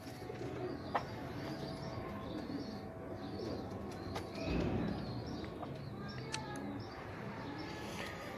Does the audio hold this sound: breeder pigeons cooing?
yes